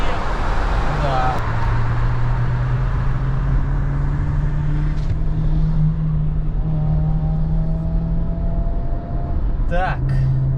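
Subaru Forester turbo accelerating on a quarter-mile run, a steady engine drone rising in pitch with gear changes, heard from inside the car, with road noise and people talking over it.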